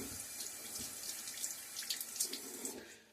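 Water runs steadily from a bathroom sink tap, lever turned toward the hot side, while a face is rinsed before a wet shave with a Wilkinson Sword razor; a continuous close splashing rush with no voices.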